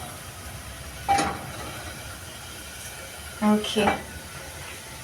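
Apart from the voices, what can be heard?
liver stew simmering in a pot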